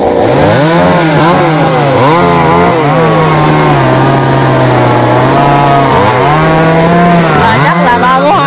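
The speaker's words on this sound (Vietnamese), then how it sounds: "Chú Tâm với em Cường cùng cưa luôn" A loud, close chainsaw runs steadily while cutting down a large rain tree outdoors. Its engine pitch dips and rises as the blade bites into the thick wood.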